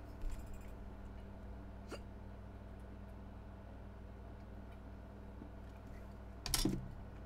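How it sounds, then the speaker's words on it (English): A few isolated hiccups from someone in a studio, spaced seconds apart over a quiet, humming room, the last one slightly louder. "Just had to chug my beer to try and get rid of my hiccups."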